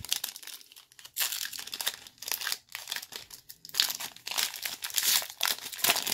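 A Panini 2023 Rookies & Stars blaster pack wrapper is torn open on a mat, giving loud, ragged crinkling and tearing bursts in several bouts with brief pauses, close and with no talking.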